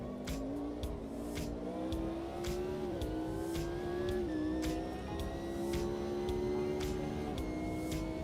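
Nissan race car engine in the sim racing game AMS2, a high droning whine that climbs and falls through gear changes, with sharp ticking clicks over the top and no speech.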